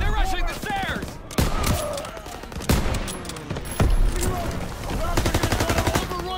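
Gunfire in the World War II shooter game Call of Duty: WWII, with rapid machine-gun bursts and sharp single shots cracking over a loud battle, mixed with shouting voices throughout.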